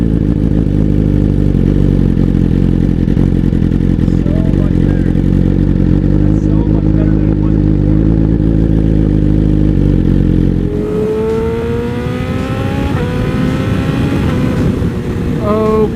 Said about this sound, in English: So it's a true cold start, and watch how this thing fires up.